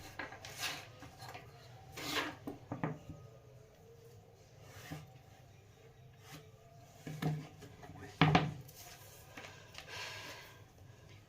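Scissors cut through blouse fabric for a size 45 blouse in scattered, quiet snips and rasping slides, with a sharper close crunch in the later part.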